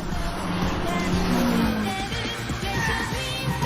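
Toyota AE86 drifting on a race course, tires sliding and squealing through corners amid a steady engine roar, close and loud, with some faint voice underneath.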